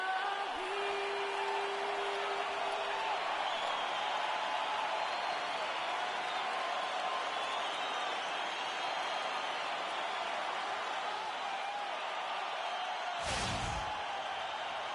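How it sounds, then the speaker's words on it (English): Simulated arena crowd noise from NBA 2K16 at Toronto's Air Canada Centre during a playoff game, a steady loud roar filling the whole clip, with a brief sharp bang near the end. "We've got an electric crowd here at Toronto's Air Canada Center."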